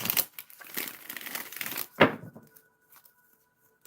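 Tarot cards are shuffled by hand in a busy, crinkling burst for about two seconds, end in one sharp snap, then fall to quiet with a faint tone in the background.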